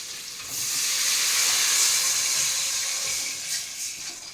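Steady sizzling hiss of frying while pulao and chicken curry cook, a broad continuous sputter that swells after the first half second and holds evenly with no voices.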